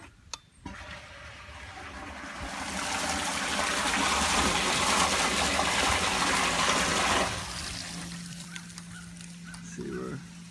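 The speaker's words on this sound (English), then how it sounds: "See where all the water flows up to the towers." Water pumped through a vertical hydroponic tower system, a rising gushing rush that swells for several seconds, holds steady, then drops away to a faint trickle with small clicks.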